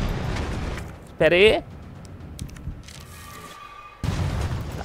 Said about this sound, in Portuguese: Um tiro de bazuca, meus amigos.